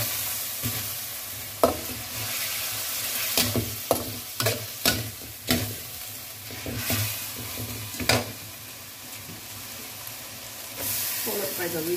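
Veggie stock goes into a pan of Hokkien mee, bringing a continuous sizzle and hiss punctuated by repeated sharp clanks and scrapes of a utensil against the pan, fairly close and steady throughout.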